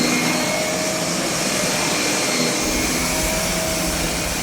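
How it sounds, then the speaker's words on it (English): A vacuum cleaner runs with a loud, steady roar and hiss. It is close and keeps going without a break, and no one talks over it. "Please stop vacuuming."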